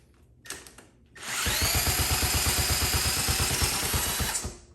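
A Honda Z50K2 minibike's small engine starts up after a brief quiet moment and settles into a loud, steady, rapidly pulsing idle that runs to the end with no talk.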